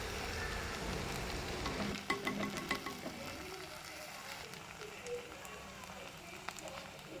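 Crushed ingredients for a pearl spot fish curry sauté in hot coconut oil, a faint, close sizzle with scattered light clicks of stirring.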